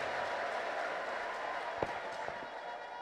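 A church congregation applauds and ululates, a dense, even wash of clapping and crowd noise heard from a distance, with a couple of sharper knocks near the end.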